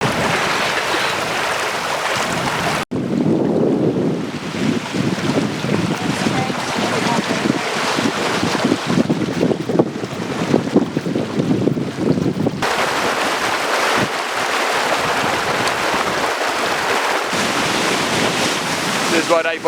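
A sailboat named Tranquilo runs fast at about 8.6 knots in Croatia's Dalmatia, with a loud continuous rush of wind and waves against the hull, broken by abrupt cuts and occasional faint voices.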